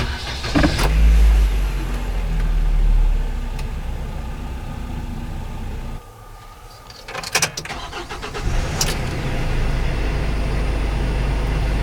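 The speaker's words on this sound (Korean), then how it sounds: "실내 시동 시 소음 비교입니다" From inside the cab of a Kia Bongo 3 one-ton truck, an engine starts with a brief crank, then idles steadily; a few sharp clicks and a short whirring sound occur partway through.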